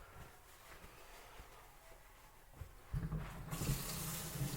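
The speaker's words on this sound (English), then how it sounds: "I'm washing my spatula." A spatula rinsed under a running kitchen tap, water splashing steadily into a sink; the flow is faint at first, then grows louder and fuller for the final second and a half, heard alone.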